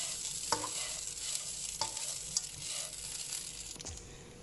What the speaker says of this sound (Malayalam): ഇനി നന്നായിട്ടൊന്ന് ഇളക്കി കൊടുക്കാം.